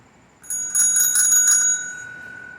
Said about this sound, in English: A nice cheap Walmart bell right here.